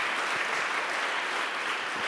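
An audience at a conference session applauds continuously, a dense, steady wash of clapping hands with no voices.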